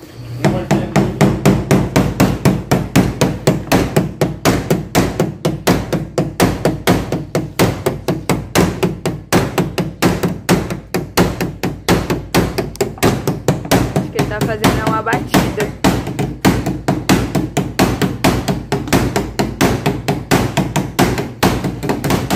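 Rapid, steady metallic taps of a small hammer, loud and close, continuing without pause, with voices faintly underneath.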